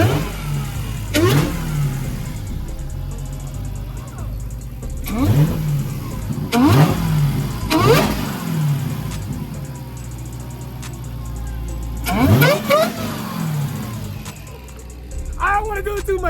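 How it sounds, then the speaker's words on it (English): A Hellcat supercharged V8 swapped into a Chrysler 300 barks through several sharp revs and falls back to a rough idle between them, heard close up, with people talking around the car. "Hey, rev that bit for me."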